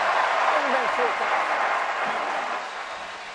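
Football stadium crowd during Georgia Bulldogs vs Auburn Tigers in the second quarter, a loud sustained roar of cheering with faint voices calling out, easing slightly toward the end.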